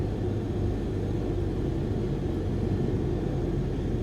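An aircraft with full flaps extended on approach in the video game Microsoft Flight Simulator 2020. It produces a steady, broad engine and wind rumble that holds at an even level with no other sounds.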